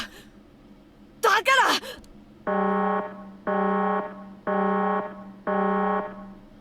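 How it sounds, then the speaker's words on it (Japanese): Incinerator alarm in the video game Zero Escape: four loud, evenly spaced electronic buzzer tones, each about a second long, following a short burst of voiced sound. "今鳴り響いてる警報は焼却が始まることを告げていて"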